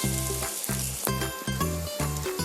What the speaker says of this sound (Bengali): টমেটো পেস্ট দিয়ে ভালো করে ভাজতে হবে